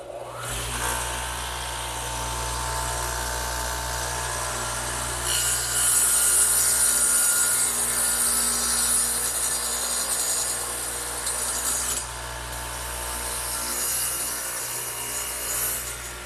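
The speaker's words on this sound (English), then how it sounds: "I'm going to do that to this piece right here over on the radial arm saw, which again has the dado head in it" A radial arm saw fitted with a dado head runs and cuts into a wooden piece, a steady motor hum with a harsh rasping bite that intensifies mid-cut, then eases as the blade clears.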